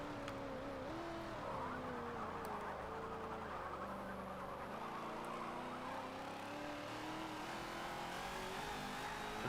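A Mercury Cougar race car in Forza 7 B-class racing, its engine droning steadily at high revs with shifting pitch and gear changes, faint and continuous with other cars around.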